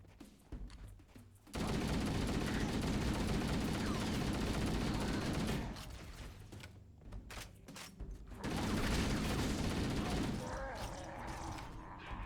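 Sustained bursts of automatic gunfire from the Halo video game, a dense loud rattle that runs for several seconds, drops briefly, then resumes, with faint voices in the gaps.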